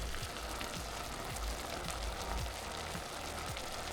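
Butter, beef cubes and chili flakes cook down in a hot pan, giving a steady, busy sizzle with faint pops and crackles throughout, close and continuous with no talking.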